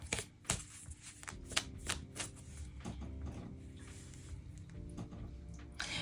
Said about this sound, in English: So I'm going to go ahead and we're going to pull some cards.